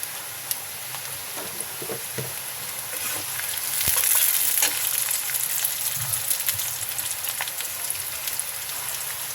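Nigella seeds, onion and green chili sizzle in hot oil for a hilsa curry, a steady close crackling hiss with scattered pops and a brief louder surge partway through, no voices.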